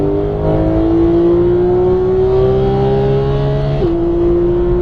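A Porsche GT3 race car engine at full throttle on a track, a loud close steady whine climbing in pitch with a sudden gear-change drop near the end.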